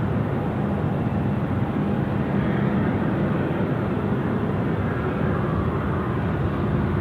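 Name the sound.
airliner taking off and passing at Sydney Airport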